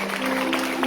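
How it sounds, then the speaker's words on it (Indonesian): Applause rings through a church revival service, a dense steady patter of many hands with a sustained organ or keyboard tone held underneath. "Tepuk tangan yang meriah bagi Tuhan."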